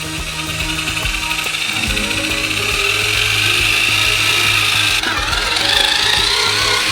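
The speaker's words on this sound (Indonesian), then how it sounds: "Dan sekarang semua ini perlu dicampur dengan mixer besar." A large mixer churns a giant batch of doughnut dough with a loud, steady mechanical whir and grinding rub, continuous and close, with no speech.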